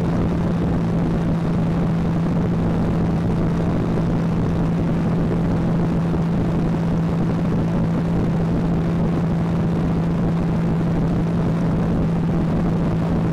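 Light aircraft engine at full power during a go-around, heard from inside the cabin as a loud, unbroken droning roar with a steady hum, constant in level the whole way through and with no talk.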